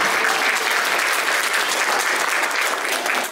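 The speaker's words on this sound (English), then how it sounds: "Let's give our flag holders a good round hit of applause." A Vacation Bible School crowd gives the flag holders a dense, steady round of applause, loud and close throughout, with no talk over it, stopping abruptly at the end.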